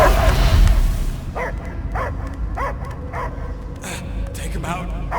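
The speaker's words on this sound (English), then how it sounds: "I hear only barking." Several short dog barks and yips ring out in a steady series over a low ambient hum in the Guardians of the Galaxy video game, with a voice talking at the start.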